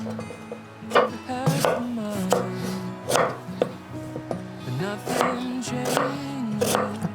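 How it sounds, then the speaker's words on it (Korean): A knife chops carrots into small cubes on a cutting board, sharp repeated thuds arriving in an uneven rhythm, close and clear, with musical tones running underneath. "깍두기 정도 크기로 이렇게 잘라."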